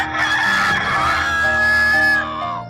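A rooster crows one long, loud, drawn-out cock-a-doodle-doo that rises and trails off over about two and a half seconds, close and alone.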